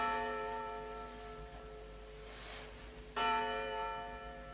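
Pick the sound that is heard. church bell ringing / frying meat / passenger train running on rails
church bell ringing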